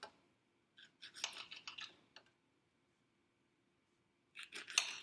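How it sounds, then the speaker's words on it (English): A butter knife cuts the ends off a plantain, heard as quiet, close scraping and tapping in two short bursts separated by a stretch of near silence, with no voices. "Okay, so I have my plantain here, and step one is to cut the ends off."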